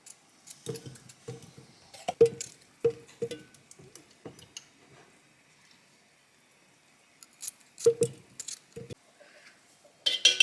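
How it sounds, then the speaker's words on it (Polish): Pickles from a whole jar are chopped in a Thermomix, giving a series of quick sharp clicks and knocks in short bursts, separated by a quiet pause before more cutting taps at the end. "Kroję cały słoik, bo ogórki są naprawdę smaczne"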